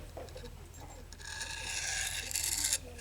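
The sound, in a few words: diamond sharpening stone wiped across jeans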